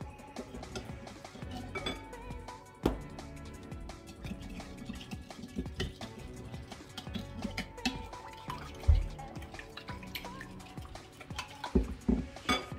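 A spoon stirs a tablespoon of salt into a homemade cracked-heel treatment mixture, giving soft gritty scraping with frequent light clinks against the bowl, fairly quiet and without talk.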